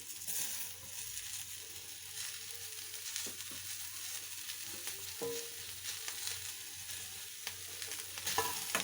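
Chopped tomatoes frying in oil in a pan while a potato and chickpea sambar is cooked, a steady close sizzle with occasional scrapes and stirring knocks, no talking.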